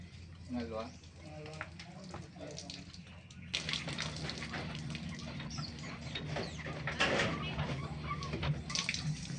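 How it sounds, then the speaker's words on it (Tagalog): Water pumped from a well gushes and splashes steadily, growing louder partway through, with voices talking and a bird calling in the background. "bubumbahin po nila yan para malaman po na may tubig na"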